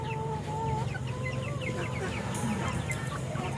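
Chickens clucking steadily at close range in a poultry pen kept for breeding hens, with layered overlapping calls and a busy flock murmur throughout, no voices on top.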